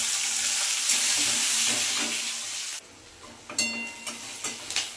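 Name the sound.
chopped onion frying in hot oil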